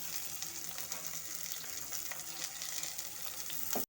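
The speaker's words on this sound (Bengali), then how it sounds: "এখন আমি টমেটোটাকে একটু হালকা করে ভেজে নেব।" Tomato frying lightly in a pan with salt, turmeric, hot chilli powder and Kashmiri chilli powder gives a steady, fairly quiet close sizzle with soft crackles throughout, and no voices.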